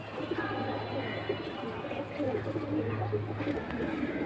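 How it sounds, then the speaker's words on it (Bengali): A pair of fancy Panki pigeons offered for sale give low, steady cooing through the whole stretch, close and moderately loud, with other bird calls and a busy background around them. "প্রিয় দর্শক, সিরিয়াল নাম্বার 19, এখানে আরও একটা চমৎকার পেয়ার দিয়ে দিল। নিউ এয়ারটেল পাঙ্কি কবুতর।"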